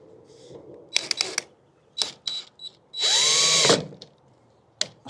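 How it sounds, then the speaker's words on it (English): A close power drill whirs in short bursts, then runs steadily for about a second, drilling holes for a DIY hydroponic system, with clicks and handling noises between. "Now we move on to drilling our holes."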